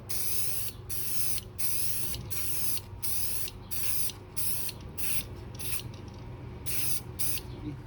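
Spray paint can firing short test passes back and forth, a loud close hiss broken into regular bursts with brief gaps between strokes over a low steady background hum.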